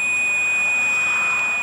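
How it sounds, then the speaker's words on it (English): A steady, continuous electronic tone sounds from an AC Hot Stick voltage detector as its low-battery warning, loud and unbroken from start to end. "the unit emits a constant warning beep, alerting you to change the batteries"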